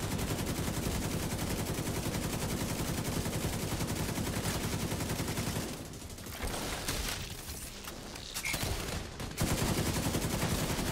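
Rapid automatic gunfire in The Division 2 rattles almost without pause, loud and close. It breaks off briefly, and shorter bursts follow before sustained firing resumes at the end.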